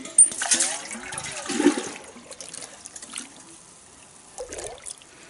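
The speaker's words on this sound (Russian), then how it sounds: "Тут уже ручей" A springtime meltwater stream gurgles and trickles nearby, rushing in uneven surges that ease into a softer flow, with a voice briefly heard.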